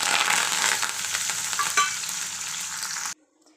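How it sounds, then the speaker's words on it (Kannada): Curry leaves, mustard seeds and cumin hit hot oil in a tempering pan, giving a loud, steady sizzle with crackling pops that cuts off abruptly near the end. "ಕಾದಿರೋಂಥ ಎಣ್ಣೆಗೆ ಕರಿಬೇವಿನ ಸೊಪ್ಪು,"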